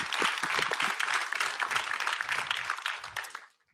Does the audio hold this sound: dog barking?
no